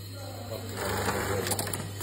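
A chain stitch sewing machine runs in a short continuous burst, a fast steady mechanical whir and rattle that swells after a quiet start, with voices faintly in the background.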